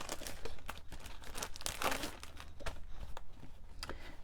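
Paper and plastic packaging around glitter cardstock rustle and crinkle close by in quick, irregular handling sounds, fairly quiet and continuous.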